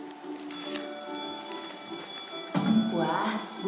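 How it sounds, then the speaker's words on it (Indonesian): An electric school bell rings for break time, a sustained bright ringing that starts about halfway through, with a faint voice and classroom ambience underneath. "bunyi bel menandakan jam istirahat sekolah"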